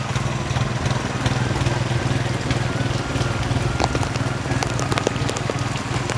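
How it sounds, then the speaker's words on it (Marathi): A continuous low engine drone runs steadily throughout from a tractor ploughing a paddy field, with faint scattered crackles over it. "ट्रॅक्टरची नांगल ती"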